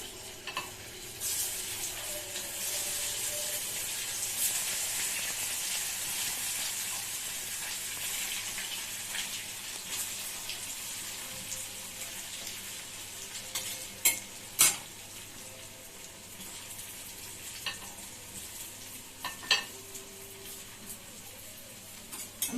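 Semolina chops deep frying in oil, a continuous dense sizzle that eases slightly over time, with intermittent spatter pops and utensil clinks close by.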